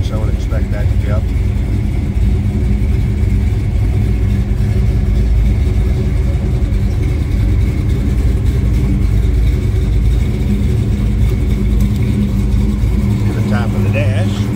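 A 1970 Chevrolet Chevelle SS 454 runs steadily just after a cold start, a continuous low rumbling engine note heard from close by with slight revs near the end, while someone speaks over it.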